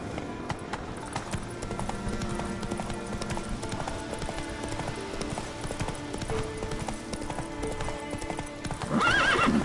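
A horse in The Witcher 3 galloping with rapid rhythmic hoofbeats, close and continuous, ending in a sharp whinny, with game music and ambience underneath.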